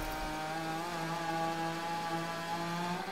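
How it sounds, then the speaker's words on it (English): Buzzy, high-revving race car engine in the rally video game Gravel, raspy and chainsaw-like, holding a steady drone with slight pitch wavers throughout, loud and close with no talking. "I swear this Forge Man sounds like a chainsaw."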